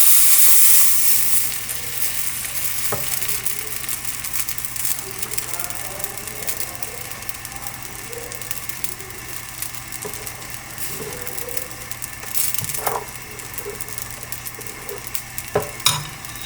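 Chitoi pitha batter cooks in a very hot pan over medium-high heat, producing a steady hiss and sizzle with occasional scraping and clinking of utensils, and faint voices sit in the background.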